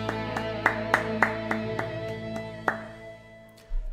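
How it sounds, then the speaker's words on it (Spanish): A handful of claps in a church setting, about eight sharp, separate hits in a loose rhythm over sustained music, rather than a full crowd's applause. "Un aplauso fuerte a nuestro Dios"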